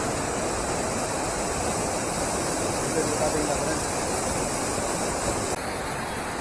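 Water at Anaimedu waterfall near Salem rushes and roars in a steady, loud broadband wash that holds constant throughout, with no pauses or individual splashes standing out.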